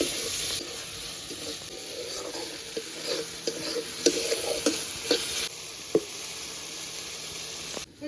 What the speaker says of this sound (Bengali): চর্বি আর ডিমটা দিয়ে একটু ভালো করে মশলার সঙ্গে কষাবো